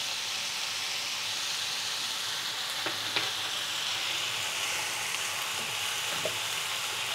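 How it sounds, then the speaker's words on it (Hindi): Ginger garlic paste frying with chopped cauliflower stalks in a pan, a steady close sizzle and hiss with faint occasional stirring clinks, no voices. "अच्छे से एक डेढ़ मिनट अदरक लहसुन के पेस्ट को भूनेंगे सब्जी के साथ।"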